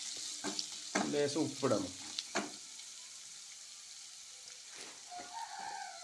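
Three large, roughly cut onions fry in a pan with a soft, steady sizzle; a voice speaks briefly near the start, then the frying continues quietly on its own.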